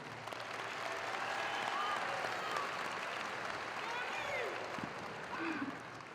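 Steady, even applause from a graduation ceremony crowd, a continuous broad patter of many hands heard from a distance that holds for several seconds before easing off.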